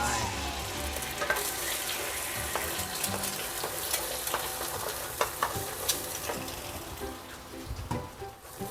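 An egg frying in hot rice bran oil in a pan, a steady crackling sizzle dotted with sharper pops and spatters, close and continuous with no talking.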